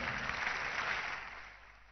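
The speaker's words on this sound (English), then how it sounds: "If you are clapping, clap very well." Congregation of Anglican clergy clapping at a welcome service, a dense steady wash of many hands that fades gradually toward the end.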